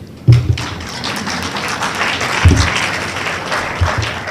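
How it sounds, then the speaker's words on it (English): Dense applause from an audience at a university award ceremony, steady and fairly loud, with a few heavy thumps near the start and middle. "A round of applause for Professor Lalendle."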